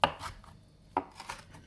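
A knife chops parsley finely on a board, a few crisp, close blade strikes separated by short pauses, quiet apart from the sharp hits.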